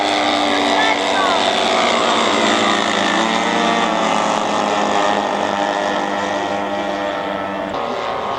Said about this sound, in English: And the Corsair is the one high at the rear, the gold-winged aircraft.